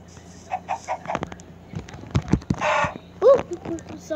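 Chicken clucks from a Minecraft-style video game sound in short bursts over a low electronic hum, mixed with clicks, a swishing noise and a person talking.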